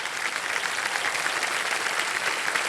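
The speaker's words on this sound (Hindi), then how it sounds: "तालियां बजती रहें इनके लिए।" Studio audience applauding on the KBC (Kaun Banega Crorepati) game show set, a steady, dense wash of clapping that holds evenly throughout with no talk over it.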